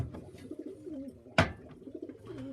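Soft, low coos of racing pigeons murmur repeatedly close by, broken by one sharp tap or flutter midway.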